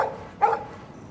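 A dog barking in the video game Life Is Strange, two short barks a moment apart, fairly loud and close, with no speech.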